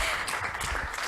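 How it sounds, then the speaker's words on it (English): A conference audience at a business event on sustainable development goals applauds as guests are introduced, a dense, steady wash of many hands clapping close by for the whole moment. "I think the round of applause can be louder."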